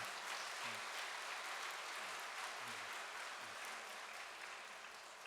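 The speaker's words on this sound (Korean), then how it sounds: "우리 이기성 원장님께 다시 한번 감사의 박수를 보내 올리겠습니다" Applause of thanks for a church director at a Korean church gathering, a steady wash of many hands clapping that thins slightly toward the end, with low murmuring underneath.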